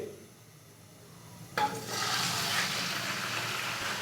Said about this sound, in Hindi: ऑयल डालने के बाद अभी मैं इसके अंदर डालूंगा चिकन।